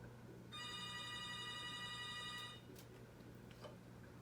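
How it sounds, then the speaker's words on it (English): A telephone ringing indoors: one steady electronic ring lasting about two seconds, moderately close over a low background hum, followed by a few faint clicks. "now that that phone is... I thought it was done ringing."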